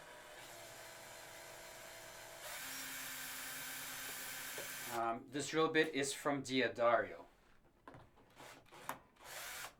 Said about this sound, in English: you can see that the drill really speeds up your life